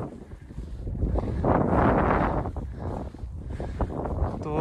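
Strong gusts at Katpana Lake in Skardu buffet the microphone, a loud continuous low roar that swells and falls without letting up, with no voices.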